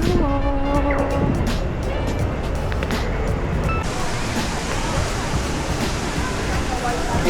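Jewel Changi's indoor waterfall in Singapore, the largest indoor waterfall in the world, roaring as a steady broad rush of falling water, with a voice talking briefly over it at the start.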